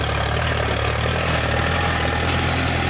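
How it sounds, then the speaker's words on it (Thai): A Lovol Euro TE50 farm tractor's 50-horsepower four-cylinder engine idles close by with a loud, steady, even rumble and a faint knocking texture. No voices are heard. "ตัวนี้เป็นเครื่องยนต์สี่สูบนะครับใน50 แรงนะให้เครื่องยนต์มาสี่สูบถือว่าแรงมากครับ เสียงเครื่องชัดเจนนะครับ"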